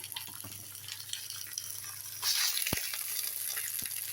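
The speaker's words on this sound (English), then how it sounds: "Hear it nice and hot, sizzling away." Chicken sizzles and crackles in a hot frying pan, a steady frying hiss that grows louder halfway through, with a couple of sharp knocks.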